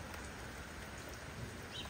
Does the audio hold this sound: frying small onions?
no